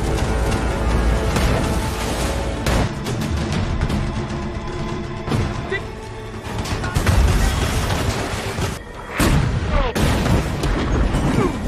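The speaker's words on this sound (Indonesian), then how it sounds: "Baku tembak pun kembali terjadi." Gunfire exchange in a naval battle film between a convoy destroyer and U-boats: loud, continuous booms and bursts of artillery with crashing impacts, layered under a narrator's voice and a dramatic score.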